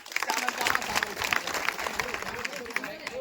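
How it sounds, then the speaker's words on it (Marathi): A crowd at a village meeting about land rights breaks into scattered clapping, a dense patter of hands with voices talking over it. "सगळ्यांनी टाळ्या वाजा."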